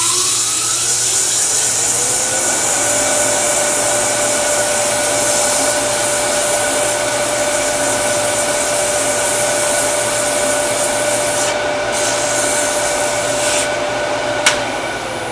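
A miniature turned wooden box spins on a lathe while a piece of 180-grit sandpaper is held against it, giving a steady, loud whirring hum with a constant tone, no talking, and a small click near the end.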